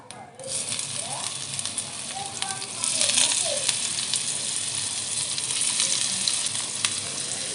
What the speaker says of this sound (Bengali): ধোকাগুলো ভেজে নেব।